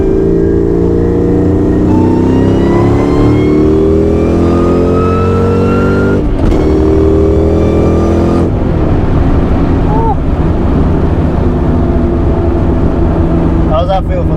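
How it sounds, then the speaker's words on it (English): A Kenne Bell supercharged 2.2L SVT Cobra accelerates hard in third gear from inside the cabin, its loud engine note climbing steadily in pitch, dropping briefly at a shift, then pulling again, with people talking over it. "Let's try a little third gear."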